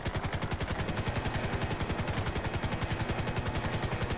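A Coast Guard helicopter hovering over water, its rotor beating in a loud, fast, steady chop that stays close and constant throughout, with no voices.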